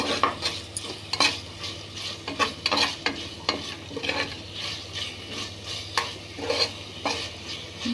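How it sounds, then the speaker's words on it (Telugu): Ginger garlic paste frying in a pan, a steady close sizzle with a spoon stirring and scraping against the metal in repeated strokes, no voices. "తర్వాత అల్లం వెల్లుల్లి పేస్ట్ వేసుకొని బాగా ఫ్రై చేయాలండి"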